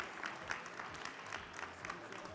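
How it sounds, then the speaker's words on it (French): Audience applause for the game partners at a live French cooking competition event, a steady, somewhat distant patter of clapping with faint crowd murmur, no speech over it. "Applaudissements aussi pour les camarades de jeu qui sont là"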